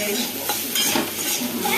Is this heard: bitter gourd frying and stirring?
yes